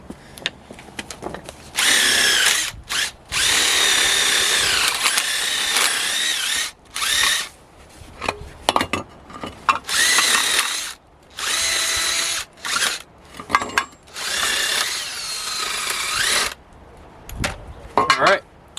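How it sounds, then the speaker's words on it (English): A power drill bores out the fasteners of a car's ball joint in repeated bursts, the high whining motor starting and stopping loud and close, with brief pauses between runs. "I think I'm going to be drilling those guys out right here."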